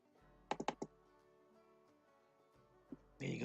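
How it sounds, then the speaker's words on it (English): A computer mouse is clicked in Photoshop, giving a few quick, crisp clicks close together at close range, quiet against a faint hum, followed by a softer click and some rustle. "I'm gonna double click on it"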